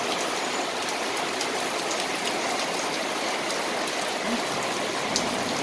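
Heavy typhoon rain from Typhoon Kristine pours down steadily in a residential area, a dense continuous hiss with no voices.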